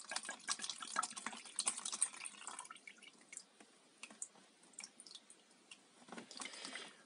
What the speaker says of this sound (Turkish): Kireç önleme çubuğunu söktük ve içinde su varsa bunu arkadaşlar boşaltıyoruz.